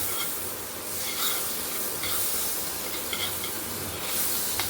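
Butter sizzling on a hot tawa, a steady close hiss and crackle that holds all the way through without pause, with a few brief brighter spits rising above it now and then.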